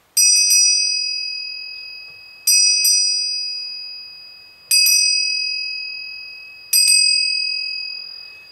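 Small souvenir bells chosen for their tone ring out four times in a quiet room, each a bright, clear strike with a quick double tap that leaves a long, slowly fading shimmer.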